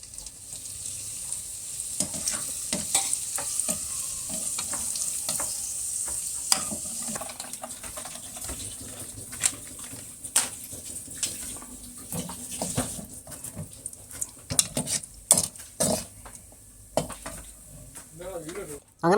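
Raisins and cashews fry in oil and are stirred for a Kozhikode-style chicken biryani. A continuous close sizzle runs throughout, with scraping and clinking strokes that grow busier toward the end.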